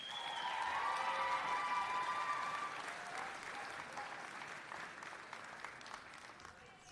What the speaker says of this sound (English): How about one more big round of applause for the class of 2026?